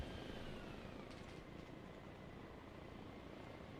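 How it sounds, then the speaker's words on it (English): A helicopter engine in the video game Arma Reforger gives a quiet, steady low rumble with a faint whine, sounding muffled and distant with no talk over it. "I don't know why my helicopter's been like quieter, I feel like."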